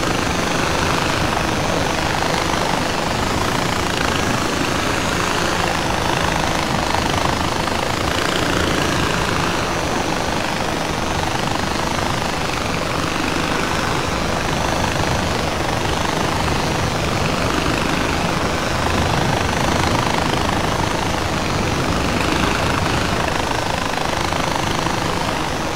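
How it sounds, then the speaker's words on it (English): Small helicopter in the video game Far Cry 4, its engine and rotor drone holding steady and loud throughout, a continuous idling whir with no talk over it. "Now I know where there is a little helicopter."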